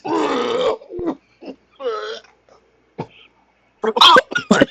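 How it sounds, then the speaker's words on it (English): Harsh throaty coughs and gasps after taking a drink come in short bursts between bits of voice, ending in a rough cluster of coughing. "he's coughing like a freshman in college right now"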